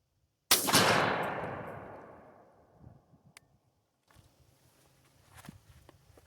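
A 3.5-inch number 4 shotgun shell fires once through a Hevi-Shot choke, a loud close blast with a long decaying roar, followed by faint scattered rustling and movement.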